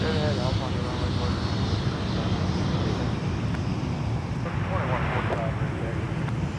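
A Delta airliner jet at Minneapolis–St. Paul airport gives off a steady, broad engine roar that carries on throughout, with an air traffic control radio voice heard over it.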